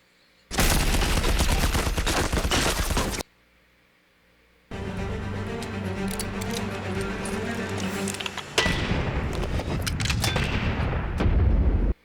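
Gunfire from the Shadow and Bone TV series comes as a dense, loud burst of rapid shots. It stops briefly, then resumes as sustained heavy fire that grows harsher and louder toward the end.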